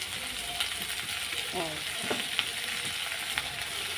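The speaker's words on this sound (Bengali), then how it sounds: "আমি আলুগুলোও দিয়ে দেবো, একবারে সব ভাজা ভাজা হয়ে যাবে।" Potatoes frying in hot oil in a home kitchen, for a fish curry with taro stolons, giving a steady close sizzle with occasional stirring scrapes and small pops throughout, no talking.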